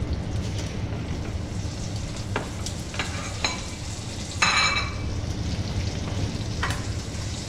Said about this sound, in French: je vais pouvoir faire revenir ma viande